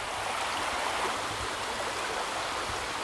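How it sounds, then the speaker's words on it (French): A river in the Cèze valley flows steadily beside a bivouac spot, a constant even rush of water close by with no other sounds. "Bonne rivière pour avoir de l'eau."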